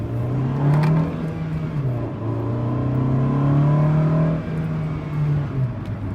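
A 1990 Acura Integra LS engine accelerating while driving, a loud steady drone that rises and dips in pitch as it revs, heard alone with no talking.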